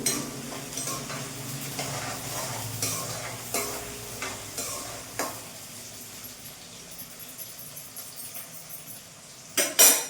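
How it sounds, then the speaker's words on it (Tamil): Onions sautéing in a pan for a Kanangkathi fish curry, a steady low sizzle with repeated scraping and stirring strokes, close and moderately loud with no talking. "வெங்காயம் நல்லா வதங்கட்டும்."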